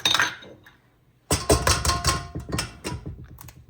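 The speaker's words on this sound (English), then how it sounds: "So we have 3 more eggs we're going to add to this recipe." Eggs are cracked one after another into brownie batter in a bowl, a few sharp knocks and clicks followed by soft wet plops, close and with no talking.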